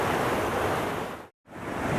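River water rushes steadily through Big Thompson Canyon, a dense, even roar of flowing current that fills the scene, broken by one brief dropout of near silence before the torrent resumes.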